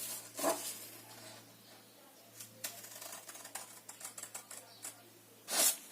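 Scissors snip through paper for a handmade correspondence box, quiet close clicks and crisp cuts in irregular bursts, with a louder rustle at the end.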